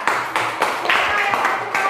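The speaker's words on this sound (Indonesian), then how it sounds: "berikan tepuk tangan untuk kelompok 3" Classroom applause for a student group, a rhythmic series of sharp claps repeating in a steady beat, fairly close, with voices faintly mixed in.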